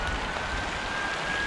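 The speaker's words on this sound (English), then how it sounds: "the rain started coming down heavier" Heavier rain falling steadily on a river bank by the River Wye, a dense, even hiss of drops close by with no voices.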